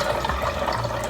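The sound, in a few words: pouring hot coffee over ice into a blender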